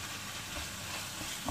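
Stuffed pasta shells frying in hot oil with black pepper give a steady, close sizzling hiss that continues without a break.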